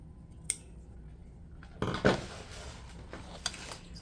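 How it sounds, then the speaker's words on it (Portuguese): Scissors snipping through crochet yarn while finishing a handmade net-stitch bucket bag, a few sharp close snips with brief rustling in between, no talking. "Agora, vamos cortar esse fio lá dentro."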